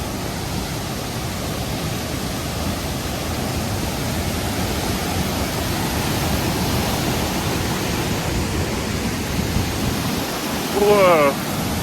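Virginia Falls, a tall waterfall in Glacier National Park on a rainy day, roars as a dense, steady rush of falling water, loud and unbroken throughout, with a brief vocal exclamation near the end.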